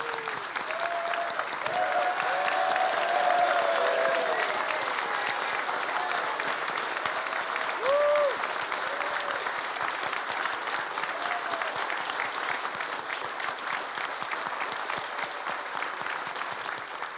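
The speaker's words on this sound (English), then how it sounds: "I think we need a standing ovation," An audience gives a standing ovation at a live-streamed event, sustained dense applause rolling evenly for the whole stretch, with a few faint voices and whoops mixed in near the start and middle.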